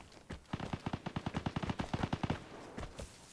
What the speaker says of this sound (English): But we hear some gunshots off in the distance.